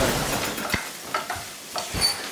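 A stick of butter melting in a pan gives a steady close sizzle, with a few light clinks and scrapes of stirring on top and no voices.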